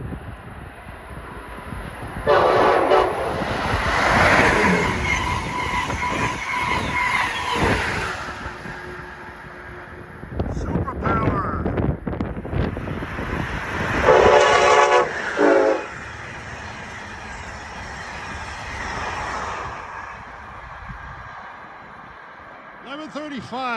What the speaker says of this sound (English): That was train 43, the Pennsylvanian from New York to Pittsburgh.